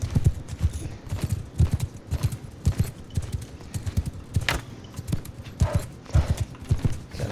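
Cavalry horses gallop through a medieval battle in a strategy game, loud rapid hoofbeats pounding in an irregular rhythm close by, with brief faint talk.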